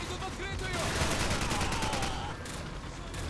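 Sustained AK rifle fire in Call of Duty 4, a loud continuous rattle of rapid shots close by, with a voice sounding over the shooting.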